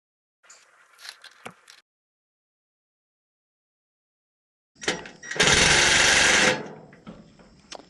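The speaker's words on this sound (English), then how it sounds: "I'll need that drill again" A power drill whirs in a short, loud burst after a few faint clicks and taps, then winds down to quiet handling noises, while installing a stainless steel chimney liner.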